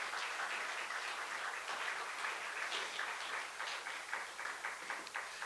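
Sustained applause from a church congregation during a Christmas thanksgiving service, dense and steady throughout without a break.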